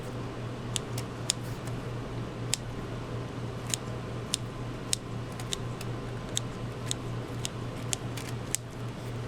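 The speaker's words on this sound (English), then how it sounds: "when I'm harvesting these mushrooms, I just cut right at the base, as close to the block," Scissors snipping shiitake mushrooms off an indoor grow block, cutting close to the base, as a series of soft, sharp clicks at an uneven pace over a steady fan-like hum.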